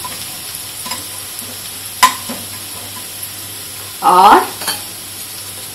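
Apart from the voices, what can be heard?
cumin seeds sizzling while stirred in a pan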